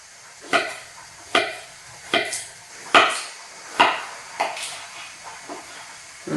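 Knife slicing through cucumbers on a cutting board, about nine crisp chopping thuds at an uneven, moderate pace, close and clear with a quiet room behind.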